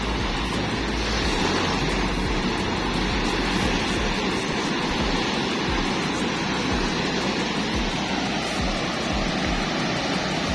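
Heavy sea waves roll and surge around a boat in rain, a dense, steady roar of water and wind that fills the whole stretch, loud and close with no break.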